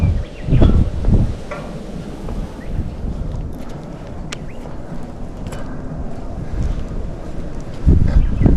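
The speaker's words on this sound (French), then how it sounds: "En plus avec le vent mec, c'est une horreur" Steady wind roars and buffets the microphone high on an abandoned amusement park's Ferris wheel, with heavier gusts at the start and end; nobody speaks.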